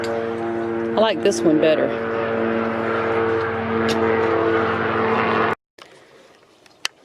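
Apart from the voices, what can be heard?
airplane flying overhead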